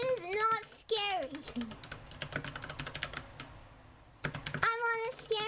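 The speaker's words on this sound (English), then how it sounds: "Do you hear me angry typing?" Rapid, forceful clattering on a computer keyboard, a dense run of quick keystrokes close to the mic, with a high-pitched voice talking just before and after.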